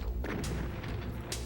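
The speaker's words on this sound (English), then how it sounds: "the explosions" Explosions in a console port of the Doom video game, a few heavy booming blasts with sharp onsets over a dense low rumble, loud and close, with no voices.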